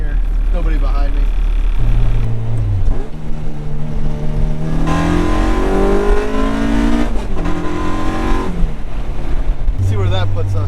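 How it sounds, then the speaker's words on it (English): Honda engine pulling hard through VTEC, pitch sweeping upward over several seconds, then easing off and climbing again, loud from inside the car with road and wind noise beneath. "Slow down, get a quick VTEC pull in here."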